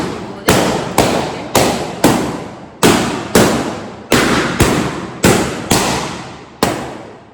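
Balloons burst one after another, about ten sharp loud pops in a steady rhythm, each followed by a short ringing decay, close by with no talking.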